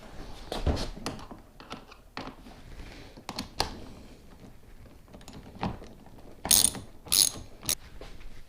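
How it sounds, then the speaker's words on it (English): Screws being tightened by hand with a ratcheting tool on rod holders for a Porta-Bote folding boat, outdoors; scattered clicking ratchet bursts and small handling noises, close and fairly quiet. "You can just hold this on the screw and then tighten like this."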